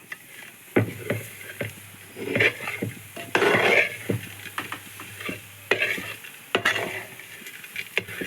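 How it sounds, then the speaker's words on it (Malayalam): Aval vilayichathu, sweetened beaten rice, is stirred in a pan, with close, irregular scrapes and clinks of a spoon against metal over a soft sizzle, and no voices. "വീണ്ടും നമുക്ക് എല്ലാം കൂടെ ഒന്ന് നല്ലപോലെ അളത്തിക്കൂട്ടാം"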